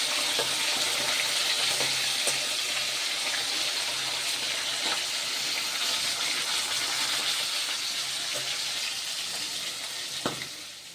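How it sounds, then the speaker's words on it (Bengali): Cauliflower frying in a pan in a home kitchen gives off a continuous, dense sizzle at a constant level, with a few faint clinks and a sharper knock near the end, and no talking. "আর এখন এই যে ফুলকপিটা ভাজছি"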